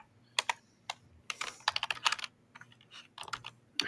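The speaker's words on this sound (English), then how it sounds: "who's tapping on the frickin' keyboard so yeah, loud?" Nearby fingers tap a computer keyboard in quick, irregular bursts of crisp clicks, alone with a faint low background hum.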